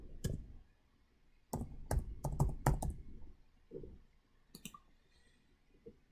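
Computer keyboard keys clicking in short irregular bursts of typing, close and fairly quiet, with pauses between groups of taps.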